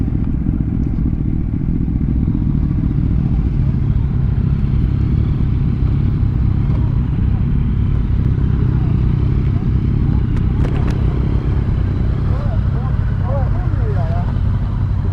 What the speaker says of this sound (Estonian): lisandub meiega veel üks mototsiklist.